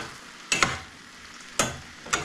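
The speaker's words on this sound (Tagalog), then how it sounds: "Yan, magpiprito ulit ako patatas." Potatoes frying in a pan give a steady soft sizzle, broken by a few sharp scraping stirs of a utensil, close and fairly quiet with no talking.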